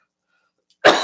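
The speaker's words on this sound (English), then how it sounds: "Oh, this stupid freaking cough." A single harsh cough bursts out suddenly after a near-silent pause, close and loud, from a person playing a solo tabletop game.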